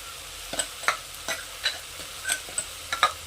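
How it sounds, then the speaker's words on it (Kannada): Ground masala is stirred into sambar in a pot: a spoon scrapes and taps in a loose rhythm of about nine soft strokes over a faint simmering hiss, close by. "ಸಂಟ್ರದಲ್ಲಿ ರುಬ್ಕೊಂಡಿರೋಂಥ ಏನು ಮಸಾಲ ಇತ್ತಲ್ಲ ಇದನ್ನು ಹಾಕ್ಕೊಳ್ತಾ ಇದ್ದೀನಿ"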